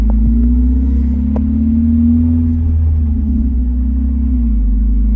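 A Chevy S10 engine fitted with a Monte Carlo SS exhaust drives along with a steady low rumble and droning exhaust tone, close and continuous, with a few faint pops.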